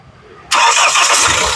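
A 2015 Mahindra XUV500 W8 engine cranks and catches abruptly after a quiet moment, then runs on steadily at a loud, close idle.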